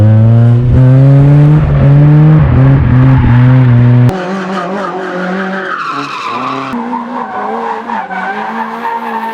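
Toyota AE86 cars drifting at an informal event, tires squealing loudly in long wavering wails over a revving engine, the squeal dropping and shifting halfway through as another pass takes over.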